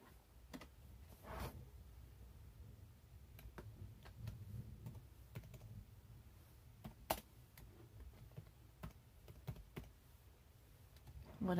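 Text being typed on a computer keyboard for a glass etching design, with soft scattered key clicks and a few sharper taps over a low background hum, quiet and close.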